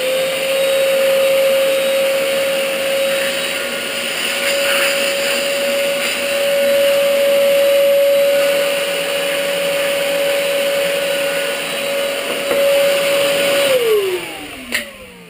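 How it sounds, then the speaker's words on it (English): A vacuum cleaner used during ski waxing runs loudly and steadily with a sustained whine, then winds down in pitch as it is switched off near the end. "I also have a vacuum cleaner here."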